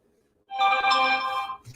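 A phone ringtone bursts in after a short silence, a bright melodic electronic ring lasting about a second, clear and close, with no talking over it.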